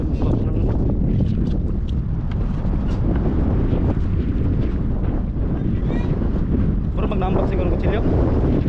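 Strong wind roars steadily into the microphone out on the water near a boat, a loud broadband rush lasting throughout, with people talking over it.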